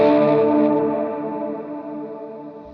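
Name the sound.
electric guitar with chorus effect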